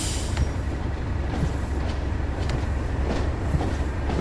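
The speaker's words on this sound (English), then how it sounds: "We shall let the weight of the train slow us down considerably." A train coasting with the throttle cut in Train Sim World on the Tees Valley Line, a steady loud rolling rumble with occasional rail clicks and faint wheel noise, no voices.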